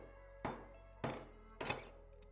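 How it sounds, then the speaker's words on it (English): Three dull, solid thunks from a dead blow hammer tapping a bearing adapter onto a motorcycle steering stem, evenly spaced about half a second apart, close and fairly quiet. "We're going to tap it down just using our dead blow hammer."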